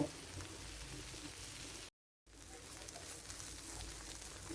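Okra frying slowly in a pan, a steady soft sizzle and crackle with no talk, briefly cut to silence partway through before the sizzle resumes.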